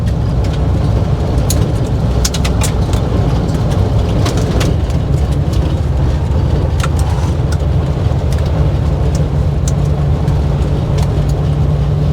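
Car cruising on the road heard from inside, a loud steady engine and tyre rumble with constant road noise and scattered clicks and rattles, no talking.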